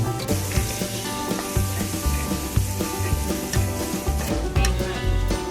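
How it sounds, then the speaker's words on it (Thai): Minced garlic frying in hot oil in a pan, a steady close crackling sizzle with light rhythmic knocks of a spatula, no voices. "ต่อไปใส่น้ำมันในกระทะพอประมาณ พอน้ำมันร้อน ก็กระเทียมสับลงไปเจียว"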